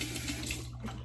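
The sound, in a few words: water running from a tap for rinsing after shaving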